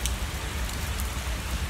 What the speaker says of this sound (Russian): Сплошной дождь валит